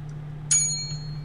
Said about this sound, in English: I hit the bell.